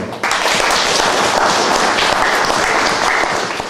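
Loud, dense applause from an audience at the final gala of an art fair at Folwark Stara Winiarnia in Mszana Dolna, starting abruptly and holding steady and close throughout.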